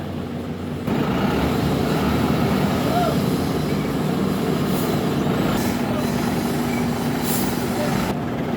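A Sinotruk six-wheeler truck rumbles steadily at close range with a constant low engine drone, air brake hiss faint in the mix.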